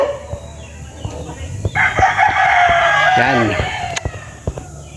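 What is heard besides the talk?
roosters crowing at a Philippine chicken farm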